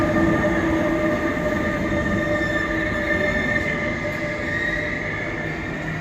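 A passenger train pulls into a station platform on the Antwerp to Rotterdam route, filling the air with a loud, steady rumble of wheels and carriages and faint squealing tones that fade slightly as it slows.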